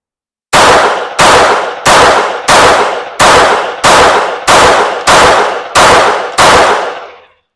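Ten sharp pistol shots fired indoors with iron sights in a half-second split and transition drill, evenly spaced about two-thirds of a second apart, loud and close, each ringing off briefly with no talking.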